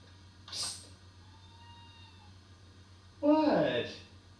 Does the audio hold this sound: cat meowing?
yes